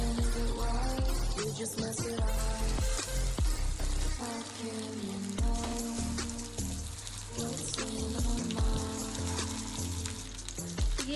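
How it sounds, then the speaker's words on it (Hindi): Chicken malai kababs frying in oil in a pan, a loud, dense crackling sizzle with bubbling pops throughout and occasional clatter of a utensil, close and continuous without speech. "ये देखिए जी, यहाँ पर हमने कबाब फ्राई होने के लिए रख दिए हैं।"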